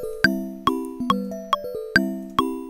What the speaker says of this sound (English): Mallets and bells.